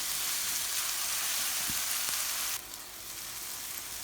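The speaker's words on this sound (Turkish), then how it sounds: "Bu şekilde şimdi domates sosumu bırakıyorum." Grated tomato sauce meets a hot pan while cooking karnıyarık. Loud, even sizzling and frying fill the clip, with a couple of faint clicks before the sizzle shifts and softens partway through.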